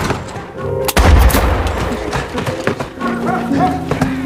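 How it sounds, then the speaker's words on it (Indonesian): Several sharp gunshots crack out, loud and close, with a burst near the start followed by scattered reports amid background commotion. "Si petani itu pun mengejar Paul dan melepaskan beberapa tembakan"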